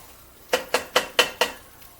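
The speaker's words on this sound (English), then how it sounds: "So I'm just stirring these around in that stuff that was on the bottom" Potatoes being stirred in a pan with seasoning give five evenly spaced, sharp clinks of a utensil striking the pan, close and distinct against a quiet background.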